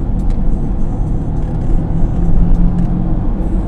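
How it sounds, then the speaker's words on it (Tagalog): A constant road-noise drone and whirring hum from a moving 1990s car with a noisy wheel bearing, steady and loud throughout, with faint higher squeaks and ticks on top. "Napansin din namin, maingay yung wheel bearing niya."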